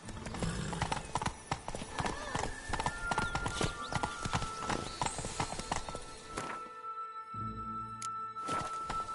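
Roach the horse gallops in The Witcher 3 with quick, rhythmic clip-clop hoofbeats up close, a whinny mixed in, and the pace easing off near the end.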